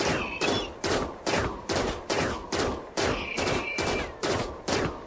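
Gunfire in RimWorld during a Scyther attack, a steady volley of loud, evenly spaced shots, roughly two per second, with no talking.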